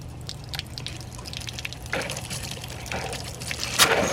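Water mixed with antifreeze runs from an opened camper shower valve, trickling and dripping steadily with irregular small splashes, close by and moderately loud.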